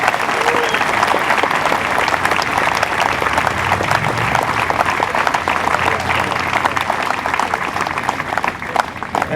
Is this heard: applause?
yes